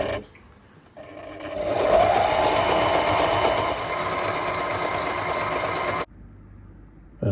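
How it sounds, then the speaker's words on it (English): A sewing machine runs steadily while winding the bobbin during work on a boat's cockpit clear enclosure, a loud continuous whir starting after a second, then stopping abruptly near the end. "So when you wind the bobbin, the machine still is functioning."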